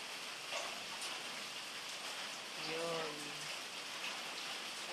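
Rain falling outdoors near houses and plants, a steady broad hiss throughout, with a person speaking briefly over it and a short tonal sound partway through.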